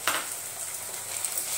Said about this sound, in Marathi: 2 मिनिटं आपण कांदा परतून घेऊ